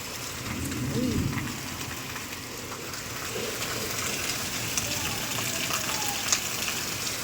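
Heavy monsoon rain pours down outdoors, a steady dense hiss of water running and splashing on surfaces throughout, with a voice and faint talk briefly heard over it.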